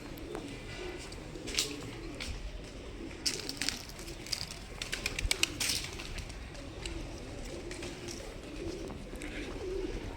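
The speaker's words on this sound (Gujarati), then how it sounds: "અને એટલે કબૂતર આવે છે ચરવા." Pigeons coo softly and repeatedly at a village temple pond, the low calls carrying through a quiet outdoor setting with scattered faint chirps and rustling.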